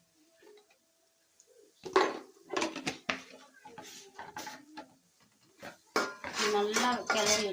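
A spoon clatters and scrapes against a cooking pan while spices are stirred in, with irregular bursts of metallic knocks close by and quiet pauses between.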